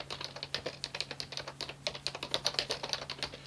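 Rapid, steady clicking of a computer keyboard as code is typed, close and fairly quiet, with irregular bursts of keystrokes running throughout.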